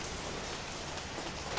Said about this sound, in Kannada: ಇವತ್ತು ಬೆಳಿಗ್ಗೆಯಿಂದ ತುಂಬ ಮಳೆ ಬರ್ತಾ ಇದೆ